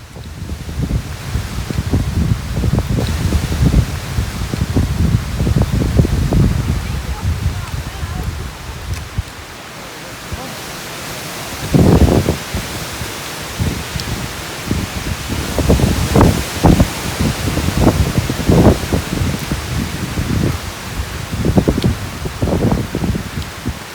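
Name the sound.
wind and rain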